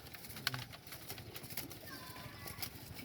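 Pigeons coo in low, soft, repeated calls inside a pigeon loft, heard close against a busy background of rustling and faint voices.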